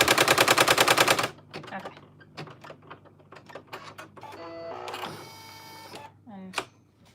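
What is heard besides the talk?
embroidery machine stitching an appliqué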